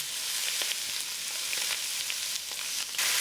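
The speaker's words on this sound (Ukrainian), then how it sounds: "На дуже гарячу пательню викладаю крильця." Steady loud sizzling of chicken wings frying in a very hot pan on near-maximum heat, with occasional crackles and pops, close up.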